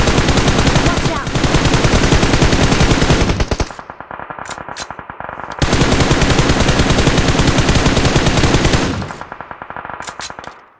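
Rapid automatic gunfire in the mobile battle royale game PUBG Mobile rattles out in two long, loud, continuous bursts, each followed by a short lull with a few isolated sharp shots.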